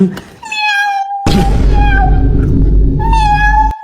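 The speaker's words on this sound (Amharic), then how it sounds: "ለተራቡ ድመቶች አሉ መንገድ ላይ፣ ለእነሱ ነው የምንሰጣቸው" Hungry street cats on a road meow loudly and repeatedly while being fed, with several drawn-out cries close by and a heavy low rumble under the middle calls.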